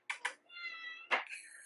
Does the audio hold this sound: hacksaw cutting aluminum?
no